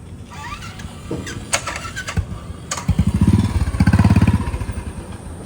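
A motorcycle engine rumbles and revs in rising bursts beside a train coach in rural Uttar Pradesh, growing louder toward the middle, with earlier clanks and squeals from the rail surroundings.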